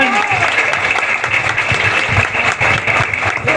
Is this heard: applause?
yes